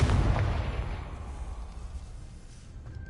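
A Confringo fire spell explodes in Hogwarts Legacy, a single loud blast at the start whose rumbling roar slowly decays and fades over the following seconds.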